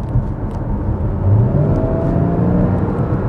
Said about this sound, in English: if I switch into my quiet mode on my exhaust